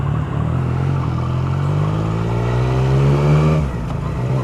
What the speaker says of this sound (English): Oh, mixer's going the opposite way to me.